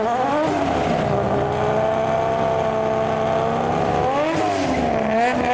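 A Nissan Skyline R33 with a big single turbo launches hard at a drag strip, its engine roaring loud and steady with a rising pitch, a brief dip near the end and then climbing again.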